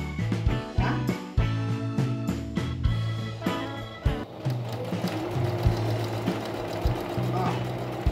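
A sewing machine stitches a sousplat cover closed in close, rapid mechanical bursts, with a dog barking and yipping nearby.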